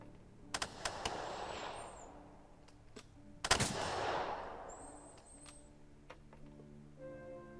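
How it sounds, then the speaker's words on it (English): Gunfire from the WWII Stalingrad strategy game Second Front: several sharp shots early, then a loud heavy burst midway with a rumbling tail, over quiet game background sounds. "Might as well gun these guys down."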